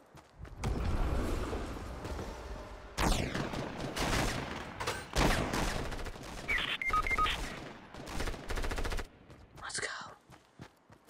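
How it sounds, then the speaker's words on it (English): Bursts of gunfire from a gunfight in the video game Fortnite, rapid volleys and scattered shots in several loud clusters with brief gaps and some soft game sounds between. "of course they get in a gunfight when I leave."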